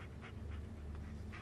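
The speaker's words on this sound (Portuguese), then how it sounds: "Cachorrinho, vem." A dog pants in the horror video game Blair Witch, quick rhythmic breaths repeating in soft bursts, close and quiet with no talk over it.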